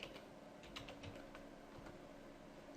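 Quiet, steady typing on a computer keyboard, a brisk run of light clicking keystrokes heard alone and close.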